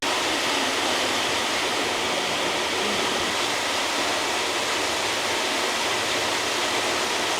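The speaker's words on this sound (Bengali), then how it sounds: "আমি এখন একদম ওয়াটারফলের পিছনে, আমার সামনে ওয়াটারফল" Waterfall in Dorrigo National Park, heard from a path behind the falling water: a loud, unbroken broadband roar of pouring water, steady and close, with no other sounds.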